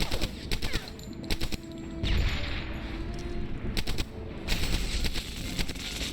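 Machine-gun fire in Medal of Honor: Airborne comes in rapid, sharp bursts at close range. Several volleys of cracking shots are separated by short pauses, over a rumbling battlefield background.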